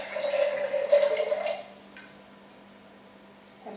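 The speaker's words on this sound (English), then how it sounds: "So I'm just going to pour this coconut" Coconut water poured into a glass jar, a short close gurgling splash for about a second and a half, then quiet with a faint clink at the end.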